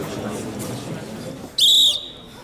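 A single sharp, loud whistle blast of about half a second cuts in after quiet indoor murmur.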